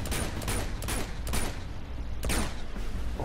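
Gunfire in the video game Uncharted 2, several rapid bursts of shots in quick succession, loud and close, with no talk over them.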